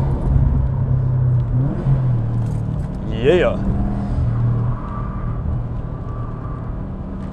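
A Subaru WRX with a Cobb Stage 2 tune drones steadily from inside the car, then its engine note climbs sharply in a short rev midway through; one brief spoken word is heard.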